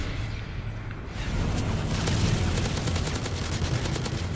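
Rapid automatic gunfire from the video game Modern Warfare 3, a dense sustained burst of shots that grows louder after the first second and continues to the end.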